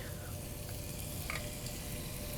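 Julienned white onion and plenty of garlic sautéing in melted butter in a pan, a dense, even sizzle heard close and constant with a couple of small pops and no voice over it.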